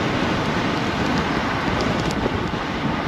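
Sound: wind blowing

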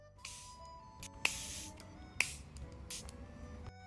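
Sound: setting spray being sprayed

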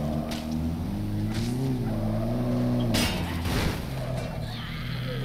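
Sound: car engine sounding rough in the video game Dead Rising 3

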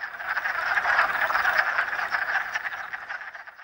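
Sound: wood frogs calling in chorus at vernal pool

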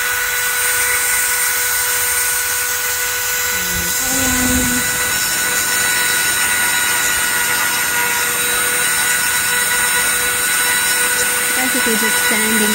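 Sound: sanding resin with a rotary tool

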